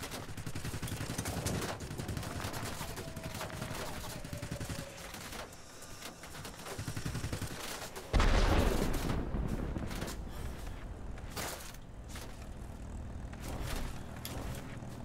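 Aircraft machine guns rattle in sustained fusillades during a World of Warplanes dogfight in the NC 1070, loud, dense bursts over a steady engine drone, with a sharp heavy burst near the middle.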